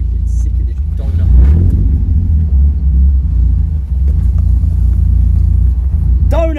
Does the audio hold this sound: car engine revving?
yes